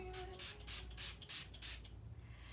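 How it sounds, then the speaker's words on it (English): Several quick hissing spritzes from a mist spray bottle, close and soft, spaced in a rapid series. "I'm gonna take my mist again and spray my whole face."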